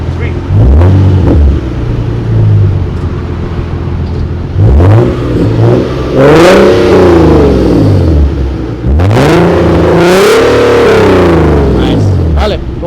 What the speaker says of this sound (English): rev it up for me